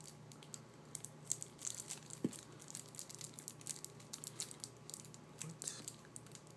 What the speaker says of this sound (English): I guess I'll open this with my scissors.